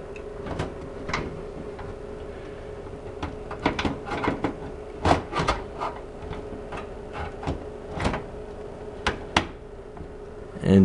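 Computer power supply unit being pushed into a PC case, a series of sharp plastic and metal clicks and knocks at close range, irregular and fairly quiet, ending in a louder thump.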